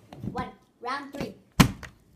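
A plastic water bottle is flipped and lands with a single sharp thunk during a children's bottle-flip game at home, set between bursts of kids' chatter.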